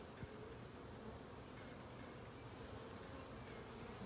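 A steady, droning buzz of many honey bees swarming close by around an open hive during an inspection, continuous and even throughout with no talking.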